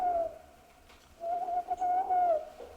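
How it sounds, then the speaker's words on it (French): An owl hoots near old graves in a night-time crypt scene. There is one short, clear hoot, then a longer wavering call, heard alone against a quiet background. "C'est un hibou."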